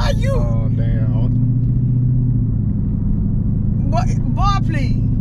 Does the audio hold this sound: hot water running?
no